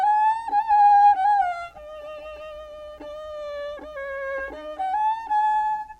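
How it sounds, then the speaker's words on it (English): A one-man band plays a melodrama tune, a single reedy, harmonica-like melody line with wavering sustained notes over a faint soft thump, loud at first and then slightly quieter, with no talking. "the curtain would rise to music played by a one-man band"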